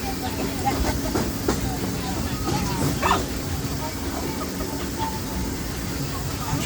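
The Disneyland Railroad train in Anaheim, California rolls along its rails with a steady low rumble and rattle throughout, while a narrator talks over it.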